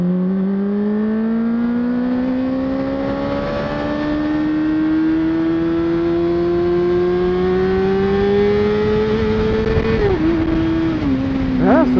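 A full sport motorcycle engine revs steadily upward in first gear on a Québec road, a loud continuous climbing whine with wind noise, then briefly dips and surges near the end.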